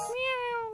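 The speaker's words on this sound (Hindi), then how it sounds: "ये छोटी बिल्ली कहाँ से आ गई थी पीछे?" A small cat gives a single clear meow, close and fairly loud, rising then holding a steady drawn-out tone for under a second with no talk over it.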